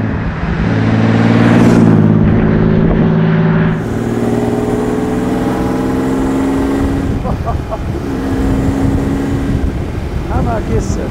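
A 1936 Alvis Silver Eagle with a supercharged 4.3-litre inline-six runs steadily nearby, a loud, sustained drone with harmonic engine tones, wind rush and occasional voices in the background.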